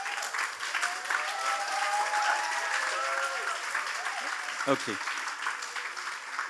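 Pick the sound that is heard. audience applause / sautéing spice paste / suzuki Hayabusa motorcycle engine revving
audience applause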